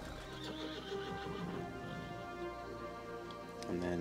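A horse in the World of Warcraft video game whinnies, with the clip-clop of hooves underneath and some softer game sounds, the neigh rising toward the end.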